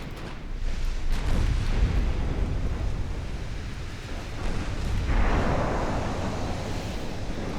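Warship secondary gun firing in a naval video game, heard as heavy rumbling booms and dull blasts over a continuous wash of wind- and surf-like noise, loud and sustained with a swelling burst near the end.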